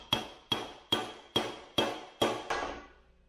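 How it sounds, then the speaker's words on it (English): Seven evenly spaced hammer taps drive a bushing into the 8-inch clamshell front differential of a Toyota Tacoma, each a sharp metallic strike with a short ring, close and alone, the last tap softer. "you can tap it nice and gently to get it started"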